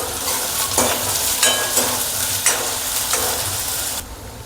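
Chopped onion sizzles in a pan for a dried shrimp chutney, with a spatula stirring and scraping in a regular rhythm several times before the stirring stops and only a softer sizzle remains.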